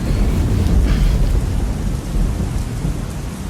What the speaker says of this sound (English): Gentle Thunderstorm.